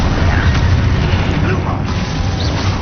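Spell explosions from the Confringo and Expulso curses in the Hogwarts Legacy video game: dense, loud rumbling blasts that blend into one continuous roar, with a voice shouting incantations over them.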